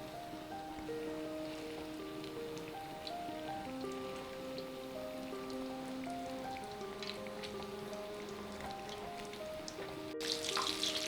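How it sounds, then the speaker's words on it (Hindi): Paneer pakoras deep fry in hot oil, making a soft, continuous crackle and hiss beneath melodic background music, which swells into a louder burst at the very end. "इसे हम फ्राई कर लेंगे अच्छी तरीके से"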